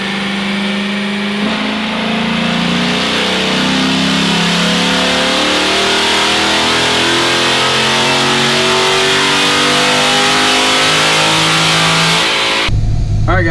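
A cammed 6.1 Hemi V8 on a dynamometer pull roars loud and close, climbing steadily in pitch through a long sustained rev before cutting off abruptly near the end.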